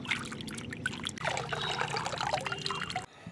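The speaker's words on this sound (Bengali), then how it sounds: "চিংড়ি মাছের এগুলো ভালো করে পরিষ্কার করে ধুয়ে নেব" Water trickles and splashes steadily while prawn heads are washed clean by hand, a close, continuous running sound with small splashes that cuts off abruptly at the end.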